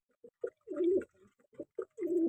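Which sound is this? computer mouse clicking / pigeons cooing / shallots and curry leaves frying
pigeons cooing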